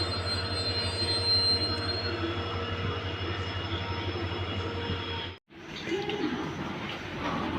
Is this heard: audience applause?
no